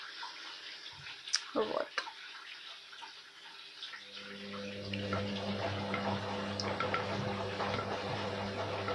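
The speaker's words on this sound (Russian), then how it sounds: "вода сверху сливается там по канализации, ну, от соседей" Water from upstairs neighbours drains through a sewer pipe in a flat where a Candy washing machine is running. After a brief spoken word, a steady, fairly loud rushing flow begins and continues to the end.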